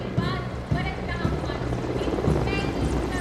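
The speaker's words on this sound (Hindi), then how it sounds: "इधर आकाश में दो मी-17 हेलीकॉप्टर्स आकाश से पुष्प वर्षा करते हुए" Two Mi-17 helicopters pass overhead showering marigold and rose petals at an Independence Day flag-hoisting ceremony in India, their rotors thudding loudly and steadily under continuous commentary.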